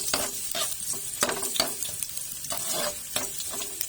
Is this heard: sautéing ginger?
yes